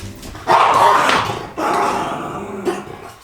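Dogs indoors barking and growling close by, two loud bursts of gruff barking with a short gap between them and a brief yip near the end, no talking.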